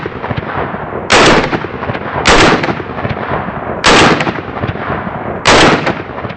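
Four loud, sharp gunshots from a firearm that has not been cleaned or lubricated, fired at an uneven pace about a second apart, each cracking over a steady rumble of background noise with no talking.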